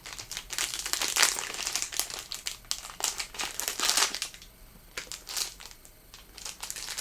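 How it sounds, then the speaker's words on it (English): Plastic packaging crinkles and crackles close up during the unboxing of a Bearbrick figure, in dense irregular bursts that fade briefly toward the end, with no talking. "Trying not to rip the plastic."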